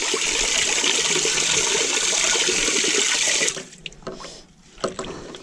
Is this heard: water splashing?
yes